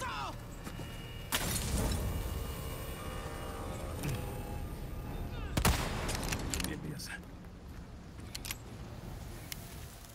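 Gunfire from the video game Resident Evil 4 Remake: a few sharp shots crack out amid continuous in-game ambience and rumble, with some clattering and shattering sounds mixed in.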